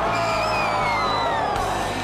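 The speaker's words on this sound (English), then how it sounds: "the crowd responding there" A loud, dense motocross crowd roars in cheers and whoops after a rider's backflip at a Zimbabwe MX event, a steady wall of voices close and continuous throughout.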